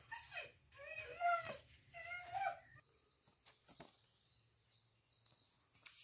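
A dog whimpers and whines in a few plaintive, high yelping cries, close and clear, followed by quieter clicks and faint rustles in near silence.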